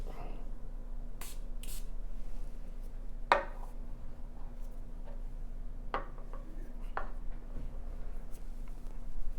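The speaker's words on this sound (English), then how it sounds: "I'm going to spray Sultan the Founder on the left and then Liwan on the right." Perfume atomizers of Sultan the Founder and Liwan fragrances are pressed a few times, giving short, close hissing spritzes separated by pauses in a quiet room.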